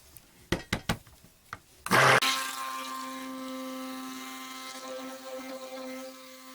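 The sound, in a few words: stick blender mixing cold process soap batter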